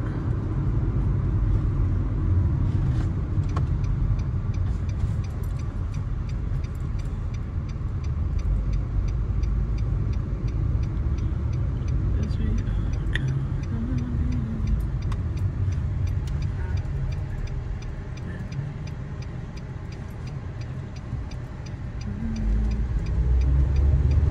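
Car driven along a road during a beginner's driving lesson, a steady low engine and road rumble running throughout at an even level, dipping slightly near the end before swelling again.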